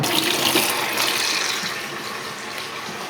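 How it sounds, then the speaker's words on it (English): Lukewarm tap water pours steadily into a bucket, meant for soaking a root-bound hoya's roots, a close, broad rushing splash that eases slightly in level toward the end. "I have a bucket in the back and I'm putting in kind of the lukewarm, tepid water."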